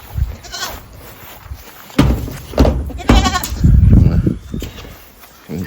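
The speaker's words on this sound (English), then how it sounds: "Feeding some of these hot dog buns to these goats as well" Goats bleat in several short calls while being fed hot dog buns outdoors on a farm, the loudest cries coming in the middle and end, with low handling noise between them.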